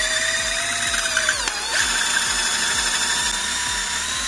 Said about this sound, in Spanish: Ahora vamos a agrandar lo que es el orificio